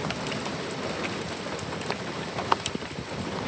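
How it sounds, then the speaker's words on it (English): Dense, steady patter of small pellets striking surfaces, a continuous hiss of hail falling close by with a few sharper individual impacts, no voices. "Okay, that would be hail now."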